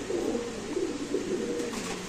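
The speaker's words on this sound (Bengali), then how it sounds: "দেখেন এই যে ক্লাবের কবুতর।" High-quality club pigeons cooing at a pigeon market, a low rolling coo repeating in soft pulses over a steady background hum, fairly close.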